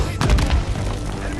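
Heavy booms and gunfire from a Call of Duty Black Ops 6 battle with mortar teams, a couple of deep thuds close together early on, then a rumbling wash of combat noise fading slightly.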